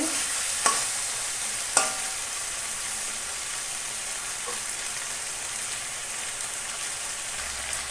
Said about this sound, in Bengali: এই দেখো কত সুন্দর করে কষাচ্ছি দেখো কত সুন্দর করে কষানো হচ্ছে মাংসতে তেল ছেড়ে দিয়েছে